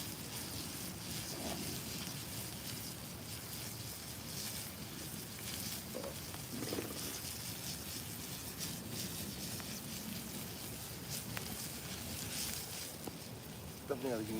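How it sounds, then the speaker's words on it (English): Breakfast frying outdoors on a cold morning, a steady low sizzle with wind-like rustle running throughout, faint and continuous. "We up out here cooking breakfast."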